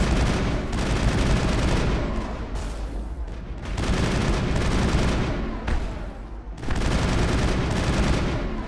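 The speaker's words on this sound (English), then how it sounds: "Someone's shooting at us from a distance." Sustained, dense gunfire rattles in the Mass Effect video game as shots come in from a distance, loud bursts of rapid fire broken by a few short lulls.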